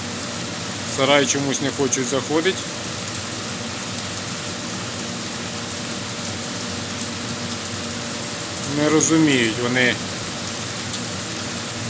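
Heavy rain pours steadily outdoors near a farm shed where chickens stand getting wet, an even wash of hiss throughout, with someone speaking briefly over it twice.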